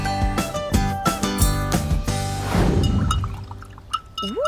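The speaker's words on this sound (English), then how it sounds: "I love the tinkling, swishing sound of my paintbrush in the water glass." A paintbrush swished and tapped in a glass of water, bright tinkling clinks and sloshing swirls up close, followed by gentle watery swishing that fades out.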